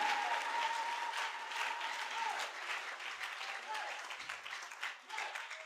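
A congregation at a French-language church service bursting into sustained applause, dense clapping that fades slightly toward the end, with a voice speaking over it.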